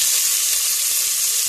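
Kofta meatballs for Dawood Basha frying in hot oil give a steady, close, continuous sizzle with fine crackling hiss, with no voices.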